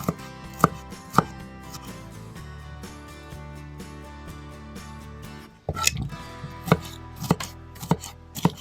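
A knife chops sweet bell pepper into strips on a board: distinct sharp knocks spaced irregularly, a pause, then a quicker run of cuts, close up and loud over soft kitchen background noise.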